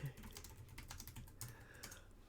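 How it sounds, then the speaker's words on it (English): Fingers type quickly on a computer keyboard in a chat window. A faint, close clatter of rapid keystrokes runs steadily throughout, with no one speaking. "let me type that in the chat."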